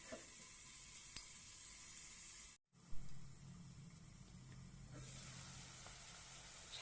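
Chickpeas for a curd-and-chickpea dish sauté in a pan with a soft, fairly faint continuous sizzle, briefly cut off partway before resuming steadily.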